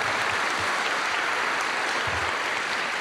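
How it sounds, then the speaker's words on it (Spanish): A gathering of worshippers at a school event breaks into sustained applause, a dense, even wash of many clapping hands held at a steady level throughout, with no speech. "Aplauso"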